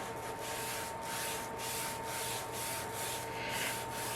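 Stain rubbed by hand onto a laser-cut Baltic birch wood sign, a quiet close swishing rub repeating in steady strokes about twice a second.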